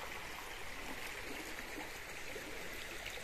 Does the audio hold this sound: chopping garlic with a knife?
no